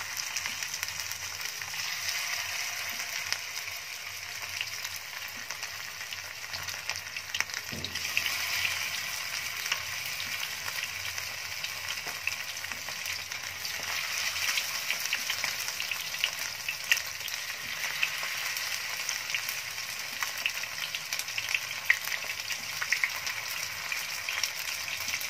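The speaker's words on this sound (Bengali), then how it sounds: "আমার তেলটা গরম হয়ে এসেছে, দেখুন আমি আবার তেল দিয়েছি কড়াতে। এবার আমি একটা একটা করে এই কড়ার মধ্যে মাছগুলোকে ছেড়ে" Fish pieces frying in hot oil in a wok give a continuous, fairly soft crackling sizzle that holds steady throughout, with no talking.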